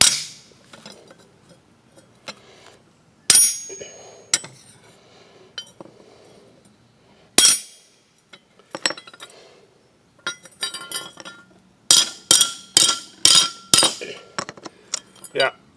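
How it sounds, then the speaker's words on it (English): Hammer blows on a bent metal idler arm plate of a John Deere S240 lawn mower: scattered sharp metallic clanks, then a fast run of about eight loud ringing strikes near the end, close by with no talk. "I can whack this plate good with the hammer"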